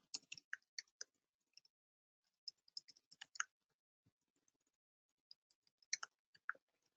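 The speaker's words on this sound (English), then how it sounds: "Ignore my typing." Quiet computer keyboard typing comes in short scattered bursts of soft, close clicks separated by silent gaps.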